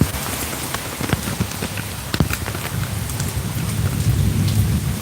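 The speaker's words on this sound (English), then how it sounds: "We're watching the rain." Rain falls steadily outdoors while thunder cracks and rumbles, with sharp close crackles early and a deeper rolling rumble building toward the end over constant patter.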